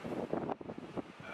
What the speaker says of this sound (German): Es ist so dermaßen windig.